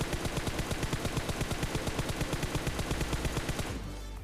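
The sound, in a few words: gunfire in the video game PUBG Mobile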